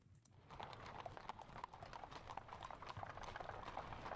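Cavalry hooves clip-clopping in a Napoleonic-era strategy video game, a steady quick rhythm of many light hoof strikes, faint and somewhat distant, with no speech over it.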